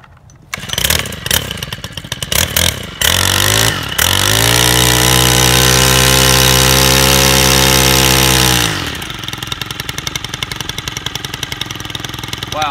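Stihl FS 91R weed eater engine starting on full choke, sputtering, then settling into a steady loud drone for several seconds before throttling down to a lower rattling idle.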